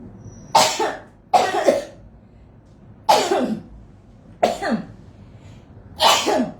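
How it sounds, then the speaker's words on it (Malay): Five separate sharp bursts of sneezing, each a sudden explosive release of breath, spaced about a second or more apart and heard up close with no talk around them. "Bersin jap."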